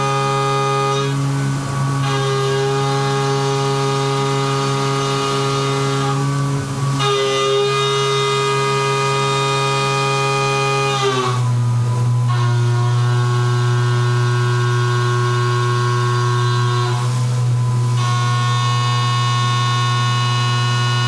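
CNC milling machine cutting metal, a loud sustained droning hum with strong steady tones that step down in pitch partway through, with periodic brief surges as the cutter engages.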